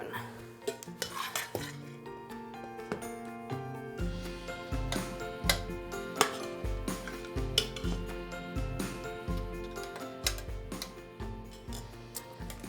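A hand-cranked food mill working mashed potatoes in a home kitchen, giving a steady run of metallic scraping and clanking as the crank turns, close and fairly loud, with no one speaking.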